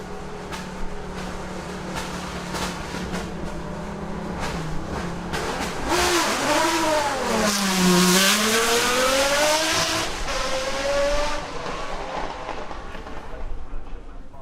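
A Lister Storm's 7-litre naturally aspirated V12 revving hard, its pitch climbing and falling in sweeping arcs as the throttle is blipped, loud and close with a sharp rise in the middle.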